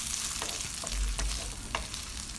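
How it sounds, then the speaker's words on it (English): Green pepper sauce, onions and grated garlic fry in a pan with a steady close hiss, and a few soft stirring scrapes break through now and then. "I'm going to fry it up a little so it softens"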